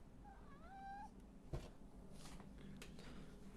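A house cat meows right into a microphone, a short rising then falling cry near the start, close and clear over a low steady background hum.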